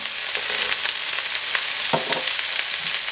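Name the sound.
ginger and cashews sautéing on high flame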